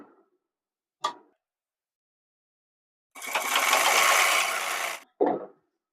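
A sewing machine stitches a shirt in one quick burst of about two seconds of whirring run, framed by short clicks and a brief mechanical clack afterward, quiet in between.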